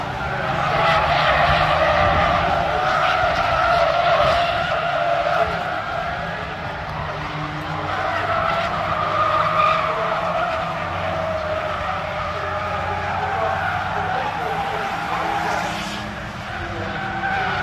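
Race cars at Knockhill circuit, several engines roaring together in a dense, sustained blare that rises and dips as the pack passes, with tyre squeal mixed in.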